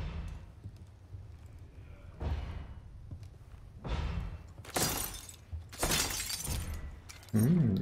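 Breakable objects shatter in Resident Evil 4 Remake, with several sharp crashes and splintering breaks spaced a second or so apart, each preceded by duller thuds and knocks, loud and close with no talking.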